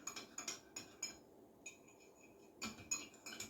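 Spoon clinking and scraping inside a big mug as a mocha gets mixed, a string of light, close metallic taps with a short pause midway before the stirring resumes.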